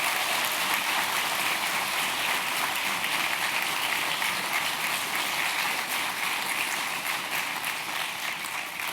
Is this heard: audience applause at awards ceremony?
yes